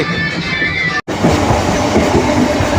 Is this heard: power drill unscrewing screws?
no